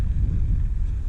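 Wind buffeting a microphone while riding a 20-inch-rim bicycle outdoors, a brief loud low rumble with no talk.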